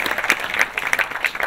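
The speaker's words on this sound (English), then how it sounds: "let's clap for that" Audience members at a panel discussion on entertainment and social impact give a brief round of scattered applause. Individual claps are clearly spaced and moderately close, with no talking over them.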